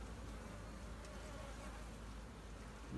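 Honey bees crowd the frames of an open hive during an inspection, a dense, steady buzzing heard close and unbroken for the whole stretch.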